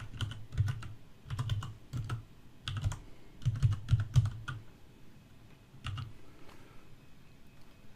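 Close-up typing on a computer keyboard, several short bursts of crisp key clicks separated by brief pauses, with a final few isolated taps trailing off.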